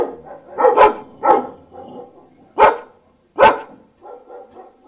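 Dogs barking close by, about five sharp loud barks at irregular intervals, with softer yips and whines between them.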